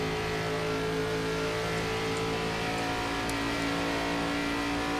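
A NASCAR ARCA race car in the iRacing game laps Las Vegas, its engine droning in a sustained, steady tone at moderate volume with no voices.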